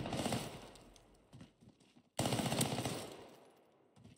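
Bursts of automatic gunfire in the Warzone battle royale, two loud dense volleys separated by a brief lull, the second starting abruptly and sustained.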